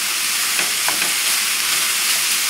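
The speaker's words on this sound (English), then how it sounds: "So we're going to saute this" Boiled beef sautéing in a pan, a steady loud sizzle and crackle of hot fat, close and continuous with faint stirring scrapes.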